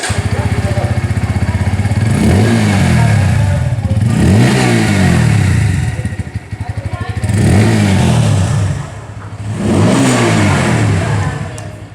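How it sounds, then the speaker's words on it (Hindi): A 2023 Bajaj Pulsar P150 motorcycle engine revs hard four times, the exhaust note rising and falling in loud, throaty bursts with brief dips between each throttle blip. "इंजन की जो एग्जॉस्ट साउंड है"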